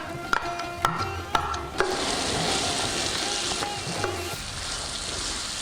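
Grated carrot with cardamom sizzling in freshly added oil in a pan, a steady frying hiss broken by a few sharp clinks of a utensil against the pan.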